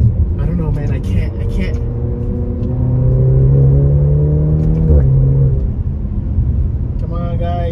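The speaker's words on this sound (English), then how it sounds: "You can also hear the turbo when it's pulling up." A car engine rumbles and rises in pitch as it accelerates, with turbo whine during the pull, close and loud, and a voice heard over it.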